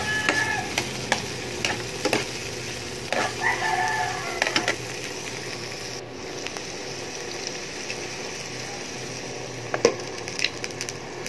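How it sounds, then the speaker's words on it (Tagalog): Tomatoes sauté with browned garlic and onion in a pan for pechay with egg, giving a steady sizzle broken by scraping and mashing knocks of a utensil, and a rooster crowing faintly in the distance; no talk. "Liligisin lang natin siya hanggang madurog yung kamatis"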